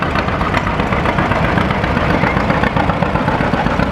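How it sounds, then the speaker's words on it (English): Big tractor engines run in a parade at a cotton gin festival, a loud, continuous rumbling drone close by with no talk over it. "There's a lot of big tractors in this parade."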